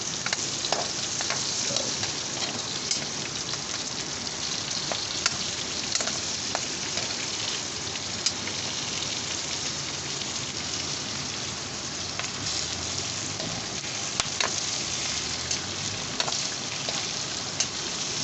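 Onions sautéing in a hot pan for ginisang upo, a Filipino stir-fry with pork: a steady, close, crackling sizzle with scattered sharp pops, continuous throughout and without any talking.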